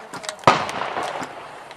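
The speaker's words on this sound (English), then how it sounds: "It fires from an open bolt, so every time this comes forward, it fires." A single sharp rifle shot fired from an open bolt, one loud impulsive crack at mid-clip with a brief decaying tail, heard outdoors with faint activity around it.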